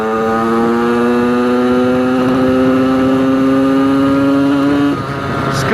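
A motorcycle cruising on an open road, engine droning loud and close with a steady, slowly rising tone that drops abruptly near the end as the throttle eases.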